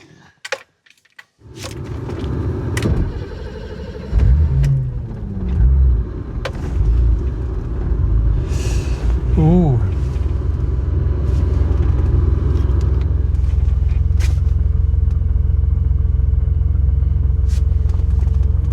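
An old veteran car's engine, just out of winter storage, cranks with a few starter whines, catches, and settles into a loud, steady rumbling idle that continues close by.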